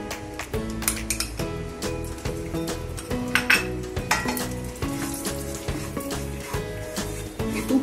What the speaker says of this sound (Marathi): थोडं उरलेलं ते भाजून घेऊया